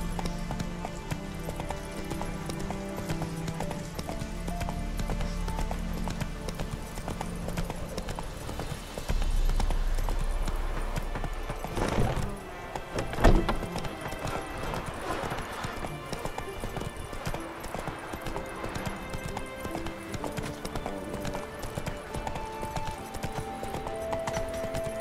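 Horse hooves clip-clopping at a steady trot while riding in The Witcher 3 video game, continuous rhythmic hoofbeats under game music and ambience, with a brief louder bump midway.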